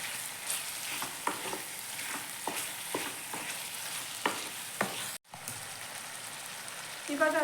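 Chicken fries in a pan for gravy, a steady soft sizzle broken by a series of sharp spoon scrapes and taps, with a brief dropout near the end.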